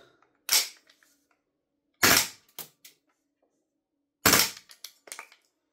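A B&T GHM9-G gas blowback airsoft pistol fires in short bursts of loud, close cracks with rapid clacking slide action, separated by pauses until the magazine stops feeding.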